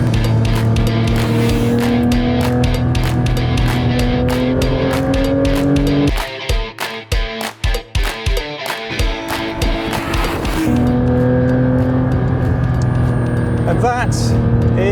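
Porsche 911 GT3 RS lapping the Monza circuit, its engine loud and sustained at close range, with a run of sharp gear changes and throttle lifts midway before it pulls hard again.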